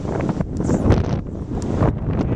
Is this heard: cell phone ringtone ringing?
no